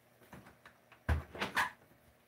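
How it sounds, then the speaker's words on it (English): A door being opened wider during indoor flower steaming with a household iron, giving a soft thump followed by a couple of brief creaks and knocks, close and quiet against a faint background hum. "which let me open the door wider"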